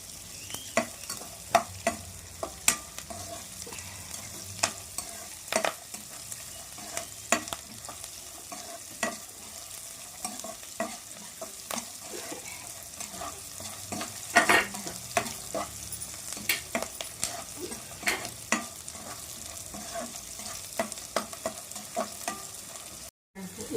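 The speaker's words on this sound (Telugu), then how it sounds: "పల్లీలు, పచ్చిమిరపకాయలు, ఉల్లిగడ్డ, కరివేపాకు వేసి మంచిగా ఇట్లా దూరగా వేపాలి." Peanuts, green chilies, onion and curry leaves fry in a pan for lemon rice, giving a constant sizzle with frequent spatula scrapes and clacks as the mix is stirred, close and unbroken, with no speech.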